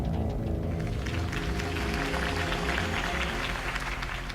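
Sustained crowd applause from an in-game audience in Batman: The Telltale Series, loud and steady for several seconds over a low musical bed.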